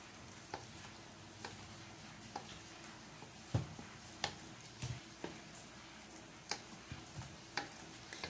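A spoon stirs Milo powder into a sago jelly dessert mixture, giving soft rhythmic taps and scrapes against the bowl every half second or so, quiet and close, with no talking.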